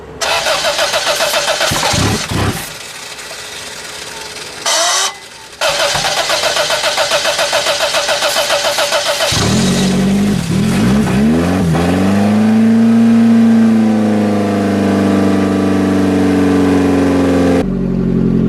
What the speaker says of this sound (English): Well, folks, I think we have a running car again.